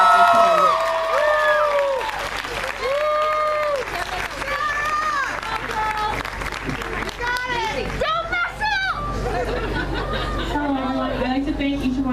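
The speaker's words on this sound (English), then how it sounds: "Let's give a big round of applause for Sarah." An audience at a cancer charity event applauds as a 16-year-old student speaker is introduced, clapping and cheering running under loud music with a sung melody and scattered chatter.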